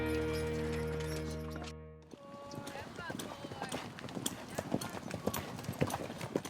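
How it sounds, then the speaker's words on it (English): Horses' hooves clip-clop steadily as wranglers drive the herd in at a Wild West dude ranch, the rapid overlapping hoofbeats starting after a brief music passage and continuing close and busy to the end. "the Wranglers drive in the horses at Paradise Ranch"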